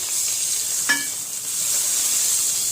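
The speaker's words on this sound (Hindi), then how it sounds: "अब तड़के को उस पर डाल दीजिए।" A steady sizzle of a hot oil tempering poured over dahi vada, with a brief sharper crackle near the start, continuing evenly throughout.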